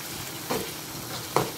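A blended paste of garlic, shallots, ginger, turmeric, chili and curry powder sizzles softly in a pan for spiced chicken liver, with two brief stirring scrapes breaking the low, steady frying hiss.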